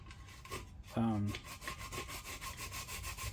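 Scraping rust and paint off a rusty antique one-gallon kerosene can, quiet rasping strokes in a repeated rhythm with one louder, harsher scrape near the start, and no talking.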